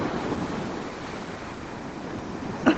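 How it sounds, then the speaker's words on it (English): Ocean waves break and wash onto a beach at sunset, a steady broad roar with some wind buffeting the microphone and a brief knock near the end. "I'm trying to keep the waves in as well."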